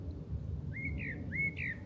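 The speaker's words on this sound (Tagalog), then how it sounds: "Para maririnig nyo yun yung tweet tweet tweet" A bird chirps a few short rising notes, faint over a low rumbling background of busy road traffic.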